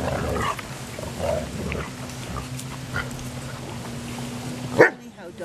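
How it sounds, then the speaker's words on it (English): Dogs growling and snuffling in playful scuffles, with low rumbling vocal sounds and a steady hum underneath, ending in a sharper yelp. "Funny how dogs play."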